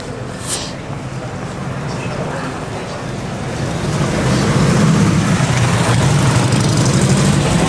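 A motor engine rumbles on a Leeuwarden street, a low steady drone that swells louder as it draws nearer, with people talking nearby.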